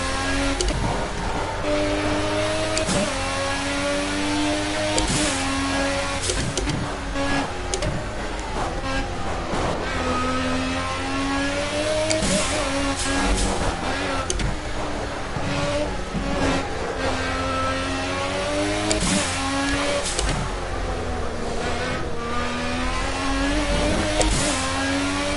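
A Formula A open-wheel race car engine in Project CARS revs high and steady, with rising and falling pitch through gear changes, loud and continuous throughout with no talk.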